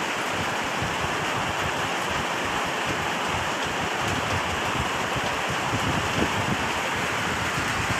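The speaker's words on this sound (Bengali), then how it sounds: "আর মুষলধারে বৃষ্টি হচ্ছে বন্ধুরা আমাদের এখানে।" Heavy pouring rain roars as a thick, unbroken wash of noise, loud and close, with no voices and no letup throughout.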